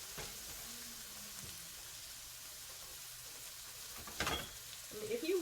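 Tilapia pan-searing in oil gives a steady, close sizzle and crackle, with a few louder clatters and spatters near the end as the fish is moved.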